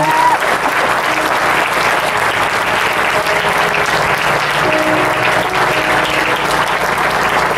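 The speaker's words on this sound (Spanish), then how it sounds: "Dele un fuerte aplauso a Dios, hermano." A church congregation applauds in a sustained, dense wave of clapping that stays loud and even for the whole stretch, with faint voices mixed underneath.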